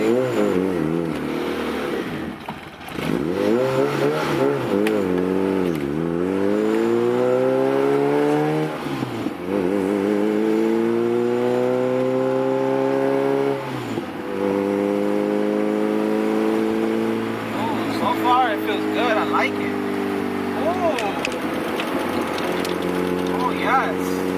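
A car fitted with new Maxpeedingrods coilovers racing on a highway, its engine revving hard through rising and falling gear sweeps at close range, loud and continuous, with voices talking over it.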